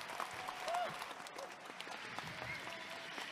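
Audience applause at a Republic of Korea Navy patriotic concert, a dense, even wash of clapping from a large crowd, fairly distant and soft, with a few faint voices mixed in.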